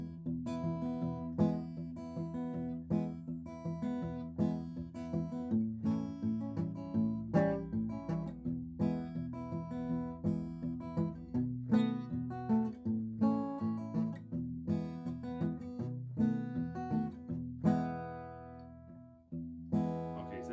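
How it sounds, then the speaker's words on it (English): A steady fingerpicked acoustic guitar plays a blues pattern, with a plucked bass line and bright plucked notes in a relaxed, even rhythm. "We were doing this sort of right-hand plucking technique for blues."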